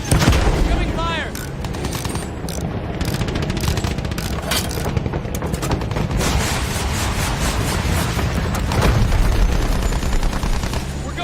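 Battlefield 1 combat with heavy, continuous machine-gun and rifle fire mixed with booming impacts and explosions, loud and dense throughout, with shouted game voices faintly under the battle.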